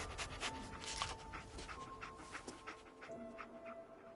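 The companion dog in the video game Fallout 4 pants in quick, rhythmic breaths up close, with a few soft whimpers mixed in over faint game ambience.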